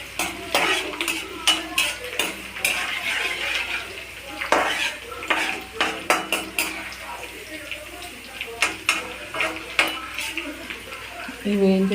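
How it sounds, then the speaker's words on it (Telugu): Onions fry and sizzle in a pan while a utensil stirs and scrapes against the metal in quick, uneven strokes, close and fairly loud, during a homemade street-style noodle recipe. "ఇవి వేయించేసి ఆనియన్స్ కూడా వేయించేసి"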